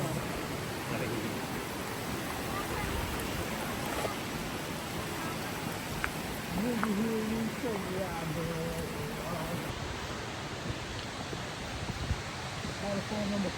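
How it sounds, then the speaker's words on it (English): A waterfall on the Rickett Glen Falls Trail pours with a constant broadband rush, steady throughout, while hikers talk briefly over it. "Waterfall number 4."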